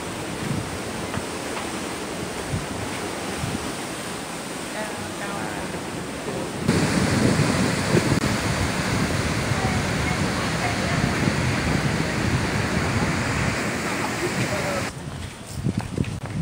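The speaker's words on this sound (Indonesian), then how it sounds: "Nah, itu ombaknya" Ocean surf on the coast of Bali, a steady broadband wash of breaking waves that grows louder and denser partway through, with talk over it.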